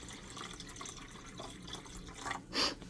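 Cold boiled water is poured from a kettle into an egg jar, a soft liquid trickle that swells into a brief splashing burst near the end.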